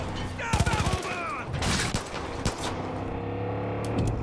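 Gunfire in the video game Far Cry 5, a quick burst of rapid shots followed by a few separate loud reports, mixed with vehicle rumble and other game sounds.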